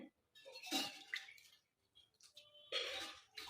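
A little water is poured into chakli dough in a home kitchen, heard as soft, close trickling splashes in a few short bursts separated by quiet pauses.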